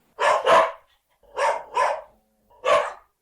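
Dog barking close and loud: five sharp barks in three bursts, a double bark, another double, then a single, with silence between them.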